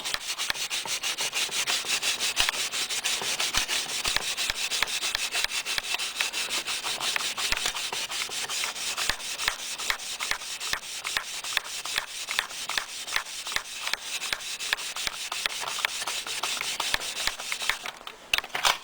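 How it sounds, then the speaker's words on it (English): Steel wool soaked with WD-40 scrubs the surface of a 1973 Schwinn Collegiate bicycle in a loud, steady back-and-forth rubbing with quick repeated strokes, close up and without speech, before stopping near the end. "Steel wool and WD-40 or a substitute on the surface."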